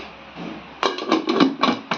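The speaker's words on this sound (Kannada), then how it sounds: "ಈಗ ನೋಡ್ರಿ ಕುಕ್ಕರ್ ಡಕ್ಕನ್ ಹಚ್ತಿದ್ದೀನಿ" A pressure cooker lid being fitted onto a cooker of pulao, a series of close metallic clunks and knocks in quick irregular succession after a brief quiet start, with no speech.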